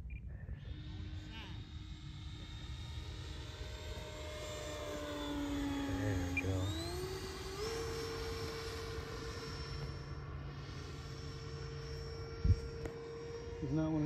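An RC model F-4 jet flying with its flaps down, a steady whining turbine roar with its pitch rising and holding as it passes, fairly loud and continuous throughout.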